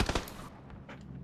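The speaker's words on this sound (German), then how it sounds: "Ich habe nur die Schüsse gehört." A quick burst of sharp gunshots in PlayerUnknown's Battlegrounds, then a few fainter pops further off, all within about a second.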